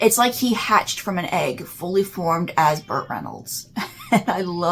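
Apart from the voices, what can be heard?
No everyday noise stands out behind the speech.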